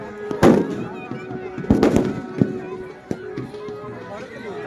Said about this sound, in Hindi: यहाँ पे कुछ लोग पटाखे वड़ाके फोड़ रहे हैं।